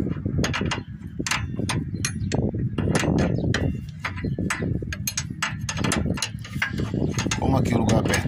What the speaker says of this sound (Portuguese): Então vou apertar agora, tô com aqui uma chave 17 e vou apertar ali.